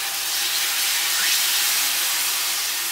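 Dosa batter poured onto a hot oiled griddle, giving a loud, steady, close hiss of sizzling that holds evenly throughout with no break.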